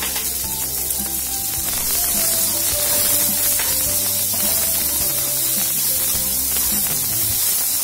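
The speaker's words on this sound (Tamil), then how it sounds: "வெங்காயத்தை கொஞ்சம் வதக்கிக்கோங்க" Onions sauteing in a pan for tomato chutney, loud, continuous frying sizzle and hiss close up, with faint background tones running beneath and no speech.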